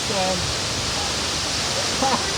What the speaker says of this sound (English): Little waterfalls there. Little waterfalls here?